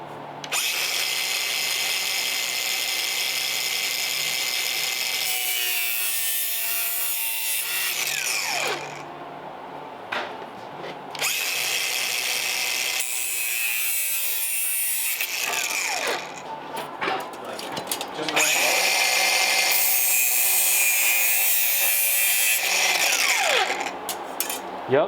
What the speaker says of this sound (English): So I'm going to get cutting this rare stainless trim